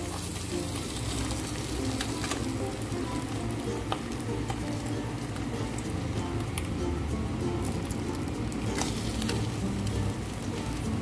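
Mujair tilapia fish fry in hot oil, producing a steady, dense sizzle and crackle with occasional sharper pops, close and continuous throughout.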